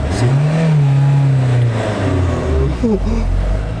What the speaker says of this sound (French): J'arrive pas à démarrer avec ton embrayage.